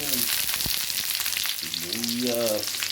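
Onion hits hot butter and oil in a pan, producing a brisk, close sizzle with crackling spatter that continues steadily for a few seconds.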